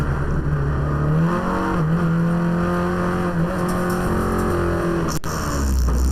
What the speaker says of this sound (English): that, ladies and gentlemen, is the sound of a VW letting go